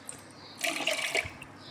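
Water is tipped from a glass into a bowl in a home kitchen, making one brief splashing pour of about half a second over a quiet room.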